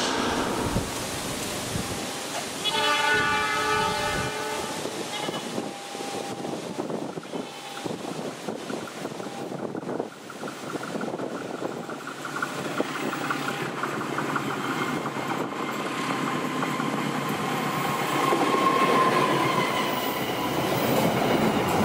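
A K3 class train rolls past the JPL 109 level crossing at Cikarang on a big curve, a loud sustained rumble with clattering wheels and a brief horn-like tone early, wind buffeting the microphone throughout.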